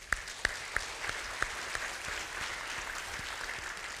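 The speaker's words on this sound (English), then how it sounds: "Let's give them a round of applause." A church congregation applauds to welcome new members, a soft steady patter of clapping with a few sharper individual claps standing out near the start, fairly distant and filling the room evenly.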